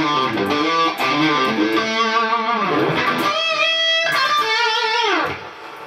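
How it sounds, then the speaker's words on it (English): Close, loud electric guitar playing on the bridge pickup of a PRS Custom 24, a bright, shrill tone through flowing chords and single notes that ring out and fade at the end. "And finally the bridge, which is a really beautiful pickup."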